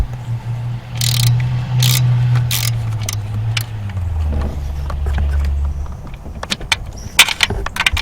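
A ratchet wrench clicks steadily while turning fasteners on a BMW metal valve cover, a loud close mechanical ratcheting in bursts with short pauses and a few sharper taps near the end.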